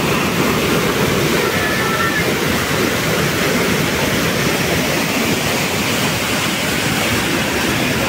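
The Iguazu Falls in Brazil send up a loud, continuous roar of heavy falling water, a dense, unbroken wash of noise with no clear voices above it.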